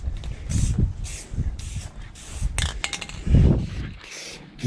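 A nearly empty spray paint can coats car parts on a 2006 Ford Focus ZXW, giving short hissing bursts at a regular pace, close and fairly loud, with a few low knocks between them.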